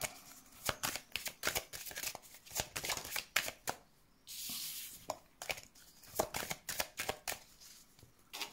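Tarot cards being shuffled for a reading, a rapid run of crisp riffling flicks and slaps, close and fairly quiet, with a brief softer rushing swish midway.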